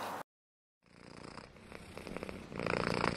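A cat purs close by, a steady continuous rumble that rises in loudness toward the end after a brief silent gap, with no voices.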